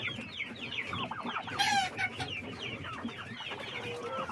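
Chickens and newly hatched chicks cluck and cheep continuously at close range, a busy overlapping chorus of short calls with one brief louder squawk partway through and no talk.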